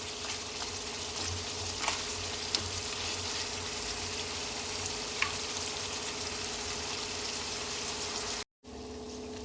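Goat head meat fries in hot oil with a steady, close sizzling hiss, broken by a couple of faint clicks and a brief dropout near the end. No one speaks.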